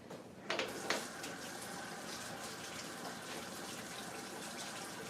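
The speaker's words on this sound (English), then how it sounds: "I'll wash my hands." Tap water runs steadily as hands are washed under it. A couple of splashy surges come early, then a constant gushing stream continues, fairly quiet and alone.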